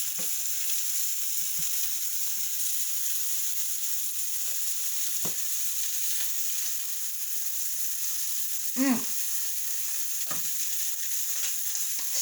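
Pork chops sizzle in a pan with a steady, bright frying hiss throughout, broken by a few faint knocks and a brief scrape near the end.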